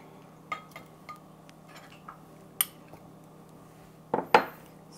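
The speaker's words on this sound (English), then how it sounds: "let's mix our evaporated milk with our salt, sugar," Evaporated milk, salt, sugar and butter are mixed in a bowl, heard as scattered utensil clinks and taps against the dish, sparse at first then a sharper cluster near the end, with no talking.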